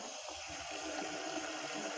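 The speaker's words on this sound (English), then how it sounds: "Turn the water aspirator on full" A laboratory water aspirator, used for vacuum filtration through a Buchner funnel, runs at full flow with a steady, faint rushing and gushing of water that stays even throughout.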